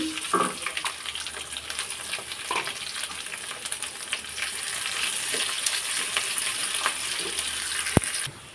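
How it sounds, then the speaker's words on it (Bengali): Garlic, bay leaf and chopped onion fry steadily in hot oil for a khichuri base, a continuous close sizzle broken by a few soft stirring scrapes and a sharp click near the end. "তো রসুন আর পেঁয়াজটা এরকম করে ভাজি করে নিলাম একটু লালচে করে ভাজি করে নেবেন"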